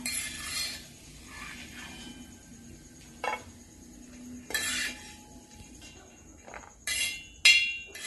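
Metal ladle scraping and clinking against a brass uruli as roasted cashews and raisins are scooped out for rava laddu, in a few separate bursts of scraping and clatter with quiet gaps between.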